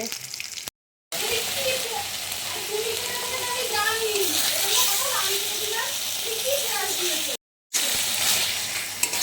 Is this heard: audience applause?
no